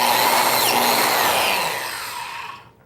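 A biscuit joiner plunges into a wooden board to cut a slot, a loud close high-pitched motor whine with cutting noise that spins down and fades out at the end.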